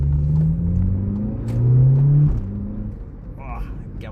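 A 2016 VW Polo GTI with a 1.8 TSI turbo engine (141 kW) and DSG gearbox accelerates from inside the cabin. The engine note climbs steadily, drops sharply at a quick gear change, then settles into a lower drone.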